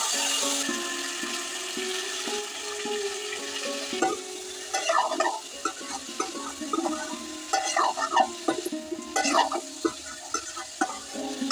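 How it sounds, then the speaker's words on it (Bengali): Oil sizzles and crackles steadily in a pan as potatoes and turnips fry with cumin, with scraping and stirring clatter growing busier in the second half. "কড়াইতে তেল দিয়ে জিরা ফোড়ন দিয়ে তারপর আলু আর শালগমগুলো ভালো মতো ভেজে নেব।"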